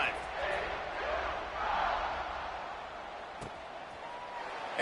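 Football stadium crowd roaring in a broad, steady wash of cheering that swells and eases, heard at a distance under a game announcer's voice.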